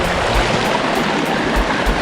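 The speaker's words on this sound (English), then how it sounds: "I'm not sure if this is one of the waterfalls on the 3 waterfalls loop" Falling water at Brandywine Falls, Ohio, a steady broadband rush that runs unbroken and fairly close throughout, with no voices over it.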